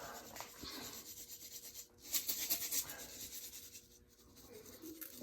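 Hands rub seasoning onto a wagyu brisket and Berkshire ribs, a soft, close scratching and brushing with uneven strokes and a few sharper swipes over faint room noise.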